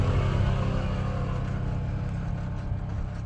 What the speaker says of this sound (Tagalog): Daghang ay motor na ngagi anak no?